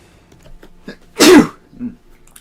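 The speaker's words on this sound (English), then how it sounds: "Quick sneeze." One sharp, loud sneeze bursts out close by after some quiet breathing and small mouth noises, followed by a softer sniff or throat sound.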